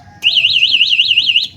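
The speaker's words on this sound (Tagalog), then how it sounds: "Ganin yung tunog mga par na anti-thief alarm natin." An e-bike anti-theft alarm sounds loud and close, a rapidly warbling electronic siren that pulses steadily about seven times before cutting off.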